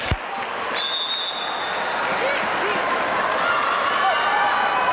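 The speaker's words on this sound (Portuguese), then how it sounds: "A torcida se agita sempre bastante quando a Hooker entra." A crowd at a volleyball final between Minas and Sesc RJ roars and cheers steadily, a dense continuous swell of noise in a large arena, with a commentator talking over it.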